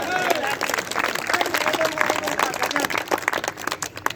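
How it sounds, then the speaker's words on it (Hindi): An audience at a Hindi poetry recital claps steadily, a dense wash of applause filling the whole stretch with no pauses. "सबके सम्मान में एक बार ताली बजा दो अच्छे से एक बार।"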